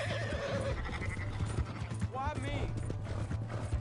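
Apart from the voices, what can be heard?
horse neighing and galloping in a video game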